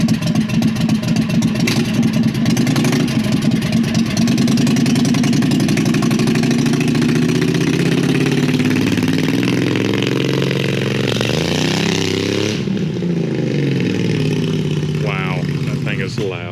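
A V-twin go-kart engine with a custom header and intake mods runs loud and close, a steady rough idle with rising revs toward the end, while a person talks over it.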